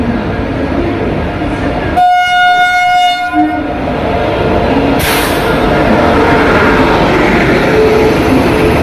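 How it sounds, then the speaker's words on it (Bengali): A train pulls into Amritsar station at night in fog, its loud horn blaring for about a second and a half over the rolling rumble of wagons, followed by a sharp hiss of air brakes and continued clatter. "কুয়াশার কারণে সেই ট্রেন লেট করে এলো রাত"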